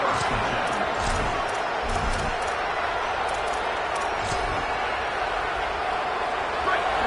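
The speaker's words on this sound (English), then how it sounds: "This crowd trying to make life miserable for this offense." Stadium crowd noise at a college football game, a dense steady roar filling the whole stretch, with a commentator talking over it.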